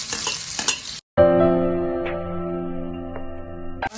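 Onion and chili hit hot oil in a pan, giving a burst of frying and stirring that cuts out briefly, then a steady close sizzle with a few sharp clinks of a utensil against the pan.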